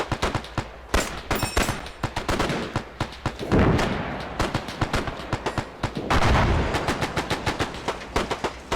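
Heavy gunfire in an Arma 3 Pacific battle as Japanese forces counterattack: rapid repeated rifle and machine-gun cracks, several overlapping bursts and louder blasts throughout, no talking.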